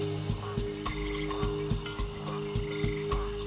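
Frogs croak in the Panama rainforest, a steady chorus of rhythmic, repeated calls with sharp clicking pulses every half second or so, heard close and fairly loud.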